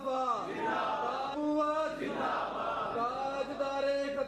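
Crowd at an Islamic religious gathering chanting slogans in unison in response to a leader, loud sustained voices rising and falling in waves, close and filling the space.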